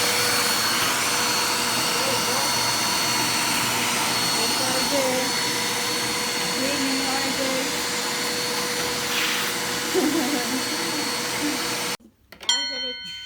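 A small Eureka AirSpeed ultra-lightweight vacuum cleaner whirs steadily for a long stretch, with a voice occasionally heard over the drone before it cuts off.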